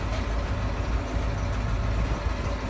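A food truck's engine labours as it climbs a steep hill, a steady, continuous low rumble heard from inside the cab with no pauses.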